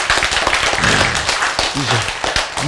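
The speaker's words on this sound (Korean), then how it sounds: "여러분 유전자를 향하여 박수 치고 또 박수 치고 하시기 바랍니다" An audience claps in a lecture hall, brisk applause mixed with cheers and a voice talking over it, uneven and close.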